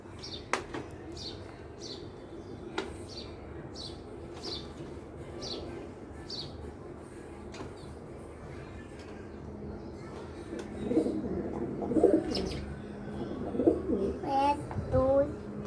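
Sirazi pigeons, a black and a brown one, cooing softly in a loft, with low repeated coos and scattered faint chirps, growing somewhat busier and louder toward the end.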